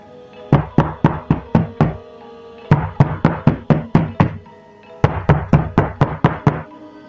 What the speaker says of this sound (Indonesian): terdengar penjuru dinding digedor dengan keras